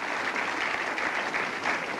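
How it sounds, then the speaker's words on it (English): A crowd at the Logan City bowling lanes applauds a bowler at a 1989 Goldpin Classic match, with steady, dense clapping that holds close and loud for two seconds. "the bowling here being appreciated by the crowd at the Logan City lanes"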